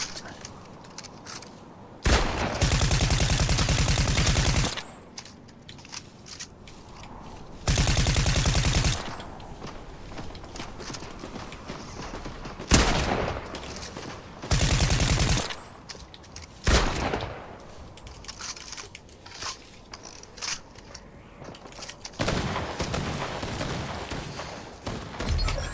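Fortnite gunfire: loud sustained automatic bursts repeat several times, separated by quieter in-game ambience and footsteps.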